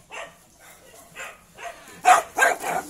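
An American Bully dog barks outdoors on a morning walk, a few quiet barks early on, then three louder, close barks near the end, with no talk over them.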